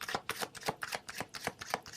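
Tarot cards being shuffled in quick, rhythmic riffles, a close, steady papery flutter with no voices.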